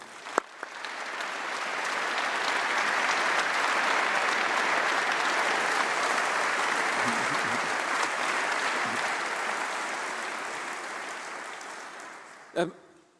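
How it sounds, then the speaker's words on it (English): A large audience at a university graduation ceremony gives a long, even round of applause, rising quickly and holding steady before tapering off near the end, heard from a distance in a big hall. "let's give a huge round of applause to everyone who's helped you get you here today"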